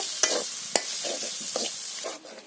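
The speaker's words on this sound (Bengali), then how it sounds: "আর মশলাগুলো ভালো করে নেড়ে চেড়ে কষিয়ে নিচ্ছে" Ground mustard, nut paste, turmeric, salt and chili sizzle in a pan for beef curry in a village kitchen, with broad steady frying hiss broken by sharp scraping stirs at irregular intervals, close and fairly loud.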